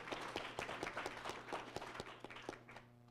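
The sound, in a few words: audience applause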